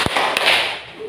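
A school class claps hands together in a counted clapping routine: two sharp, loud claps ring out close together in a reverberant classroom, with no talking.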